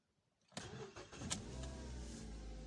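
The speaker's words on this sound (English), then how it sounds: "And if I turn the car on" A cold 2012 Mazda 3 sedan engine cranks briefly and catches, then settles into a steady, close idle with a low rumble, with no talking over it.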